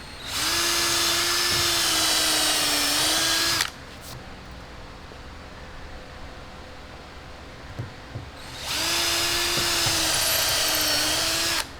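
A power drill drives temporary screws into a Ricmotech RS1 sim rig frame in two loud, steady whining bursts of about three seconds each, separated by a quiet pause with faint handling noise.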